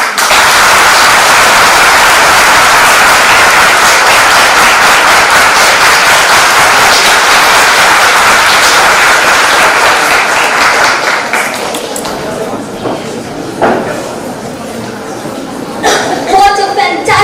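A school audience at St Mary's Convent College in Nainital giving sustained, dense applause after a performance, loud and continuous before thinning into scattered claps and crowd noise.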